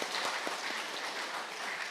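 A church congregation applauds at an evening worship service for the kindergarten department, a dense, steady wash of many hands clapping together throughout.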